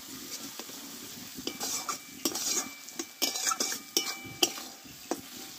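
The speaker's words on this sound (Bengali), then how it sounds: "আমি আরও 1 মিনিট মতো আমি ভালোভাবে কষে নিলাম মশলাটাকে" Spicy Bengali chicken masala paste is fried and stirred in a pan, a metal spoon scraping and knocking against it in repeated strokes over a low sizzle, close and distinct with short pauses between strokes.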